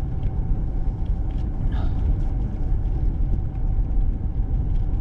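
A car driving on a snow-covered road during a winter storm in Saskatchewan, a steady loud engine and tyre rumble throughout, close and continuous.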